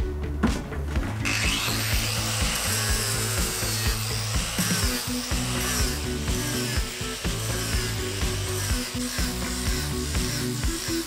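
An abrasive disc grinds the bottom of a 45-year-old boat's hull with a steady, loud power-tool whine and rough scraping across the whole stretch, alone and close.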